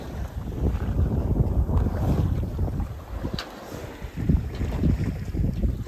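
Sailboat under engine on the open Pacific at sunset, a low rumbling drone mixed with wind buffeting the microphone and water wash, steady and continuous with no talk.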